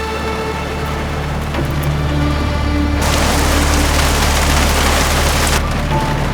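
A dense, steady wash of rain pours down, louder in the middle stretch, with a low rumble underneath and faint tonal hum.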